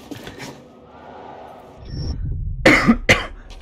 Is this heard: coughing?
yes